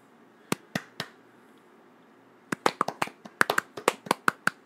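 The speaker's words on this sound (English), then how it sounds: "Let's clap." A small group of people clap hands in a sparse, uneven way: three isolated claps, a pause, then a quicker burst of a dozen or so sharp, close claps that never settle into a steady rhythm.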